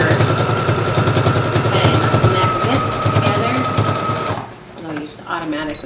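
Sewing machine running a stretch stitch along a dress seam, a fast loud rhythmic mechanical rattle that runs steadily for over four seconds before stopping, with a voice speaking briefly afterwards.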